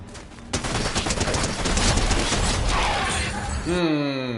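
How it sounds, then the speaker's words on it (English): Rapid gunfire from a Fortnite match, dense loud bursts of shots and impacts running almost throughout, ending with a rising tonal game sound. "I felt like that was a shotgun kill more than a sniper kill"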